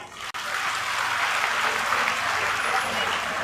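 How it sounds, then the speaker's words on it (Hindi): A political rally audience in Haryana applauds, a steady, dense wash of clapping that holds for a few seconds after a sharp opening tap. "उन महिलाओं के लिए तालियां।"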